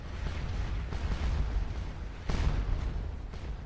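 Cannon fire on a Napoleonic battlefield in the game Scourge of War Waterloo, with repeated rumbling artillery booms over a constant roar of battle, one blast standing out, loud, with nobody talking.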